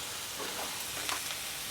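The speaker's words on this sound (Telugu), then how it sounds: "ఇప్పుడు దీంట్లో మనము ఫస్ట్ ఆనియన్స్ తడుక్కున్నాం కదా, అవి దీంట్లోకి వేసేసేయాలి." Chopped onions and green chillies frying in a pan for prawn curry give a steady, moderately quiet sizzle with a few soft stirring scrapes and small pops, with no voices.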